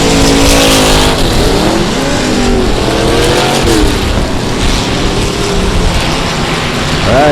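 Race cars lap a slick oval at South Texas Speedway, producing a loud, continuous roar of engines that rise and fall in pitch as they pass, with no talk over it.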